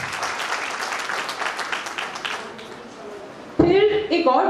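An audience claps in a crowd of steady, dense applause that fades over about three seconds, then a voice cuts in loudly.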